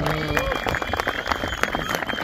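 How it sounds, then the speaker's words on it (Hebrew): Audience applause at a memorial event, a short burst of dense clapping from a crowd in a hall, heard together with a speaker's voice. "אפשר למחוא כפיים"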